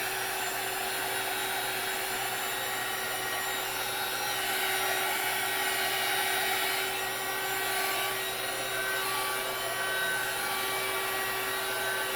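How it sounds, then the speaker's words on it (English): A heat gun runs nonstop over a blue and turquoise marbled wine rack finish, making a continuous, even airy roar with a faint steady whine that never pauses, and nobody speaks. "Now, take our handy dandy heat gun again."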